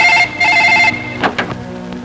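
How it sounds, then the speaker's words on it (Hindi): A telephone rings loudly in two bright electronic bursts in a Hindi-Urdu drama at a police station, followed by a short clatter as the receiver is picked up. "Hello, inspector Abdul Haq speaking. कारून सेठ सर, ये मेरी खुशनसीबी है कि आपने फोन से राब्ता किया"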